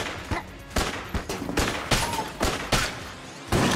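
Rapid bursts of gunfire from the video game Enter the Gungeon, sharp loud shots repeating in quick irregular volleys with brief gaps between.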